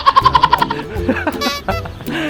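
Bird calls in a chilly outdoor setting: a rapid run of about eight sharp, evenly spaced calls opens close and loud, then trails into a mix of fainter chirps and background noise.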